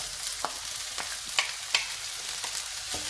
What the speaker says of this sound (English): Let your pan get nice and hot. And in with the peppers.